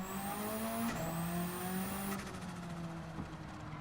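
A high, steady whistle from a high-RPM turbocharger rides over a droning race car engine in Gran Turismo 7, with the pitch resetting as gears shift; game engine audio with no talking.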